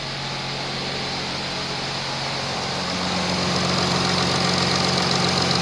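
Two electric radiator cooling fans on an Audi A6 C8 spinning with the air conditioning switched on, a steady broadband whoosh over an idling engine hum that swells slightly louder partway through, heard close with no speech.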